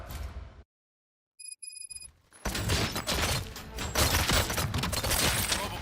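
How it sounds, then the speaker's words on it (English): Gunfire in the RoboCop Rogue City video game: after a short silence and a few synthetic electronic tones, a loud dense barrage of shots and impacts erupts and continues steadily to the end. "Gunshots? What's going on?"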